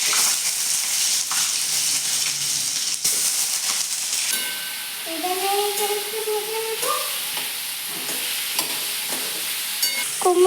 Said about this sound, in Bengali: তো তেল গরম হয়ে গেছে, এবার আমি দিয়ে দেবো কুমড়ো।